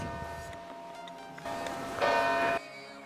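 A church bell rings faintly in the distance, a few soft tolls rising out of background noise.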